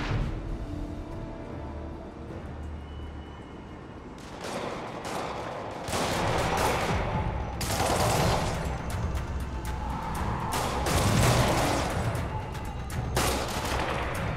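Gunfire erupts in a Spider-Man video game as Demons attack a police checkpoint: a quiet opening gives way to repeated loud bursts of shots and booms from around four seconds on, continuing heavily to the end.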